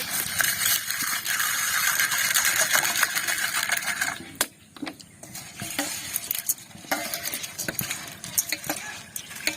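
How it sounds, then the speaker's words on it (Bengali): Sago pearls being rubbed and washed in water, first a steady swishing, grinding rustle of wet grains, then a sparser run of clicks, splashes and scraping from the bowl, close up. "এখন 3 থেকে 4 বার ভালো করে জল দিয়ে ধুয়ে নেব"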